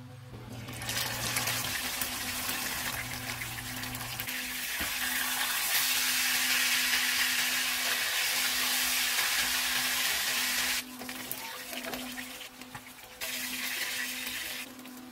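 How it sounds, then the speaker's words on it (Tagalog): Salted dorado fish frying in hot oil, a continuous loud sizzle and crackle that swells and dips over about fifteen seconds with no voices. "Ipiprito muna natin tong isdang dinorado"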